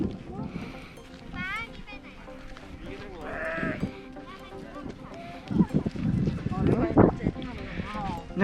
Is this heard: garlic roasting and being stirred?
no